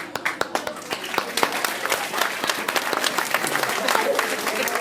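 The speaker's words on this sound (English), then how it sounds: "Let's just give a round of applause." A small group bursts into a round of applause during a casual fast-food tier list chat, dense, close clapping that starts sharp and settles into a steady patter for several seconds, with faint voices underneath.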